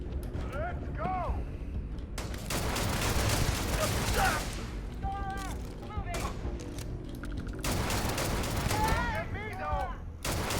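A powerful gun fires in Starfield, repeated loud blasts in heavy clusters over a busy game soundscape, with a voice speaking amid the shooting.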